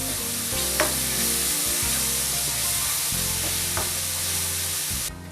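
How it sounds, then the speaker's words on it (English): Food frying and being stirred in hot oil in a pan, a steady loud sizzle with bursts of crackle and occasional scraping as the mixture is moved, continuous with no talk. "Give it a good stir and keep frying until the oil separates."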